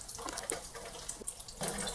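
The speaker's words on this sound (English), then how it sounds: "I've also got a wire mesh strainer in the sink so that as this drips, if I lose any, I can collect that later and dump it." Wet paper pulp drips and trickles into a wire mesh strainer in a kitchen sink, a run of small, close splashes and patters with no talking.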